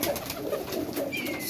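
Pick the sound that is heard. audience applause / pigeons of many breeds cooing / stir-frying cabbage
pigeons of many breeds cooing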